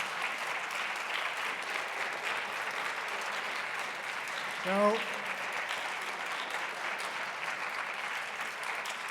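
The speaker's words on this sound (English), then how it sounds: "So big applause to them," Sustained audience applause at a meta-research day plenary talk, a steady wash of clapping throughout with a brief vocal cheer or whoop rising out of it near the middle.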